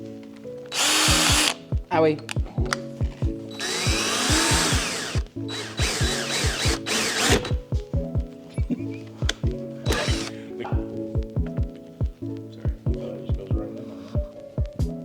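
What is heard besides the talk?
power drill drilling with a half-inch drill bit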